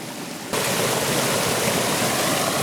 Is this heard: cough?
no